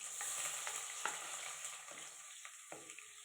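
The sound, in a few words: onions frying in oil in a pan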